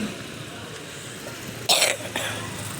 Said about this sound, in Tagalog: May konting ubo pa po ako guys.